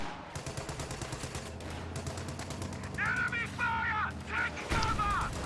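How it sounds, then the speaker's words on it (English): Light machine guns firing during a video game battle against Volksgrenadiers, rapid bursts of rattling gunfire under steady talk from a commentator, with a louder sound effect near the end. "LMGs are engaging against some Volksgrenadiers."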